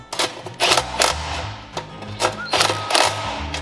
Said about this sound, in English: tighten up these 3 bolts